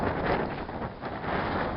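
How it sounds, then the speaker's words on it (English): Strong outdoor wind buffets the microphone in a steady low, rumbling roar with brief gusty swells, no voice heard. "God, it's fucking windy."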